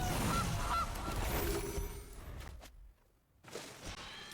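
Goose honks in the Magic: The Gathering Arena card game, a couple of short nasal calls near the start, loud over a thick layer of game sound that thins out and drops to near silence before it picks up again.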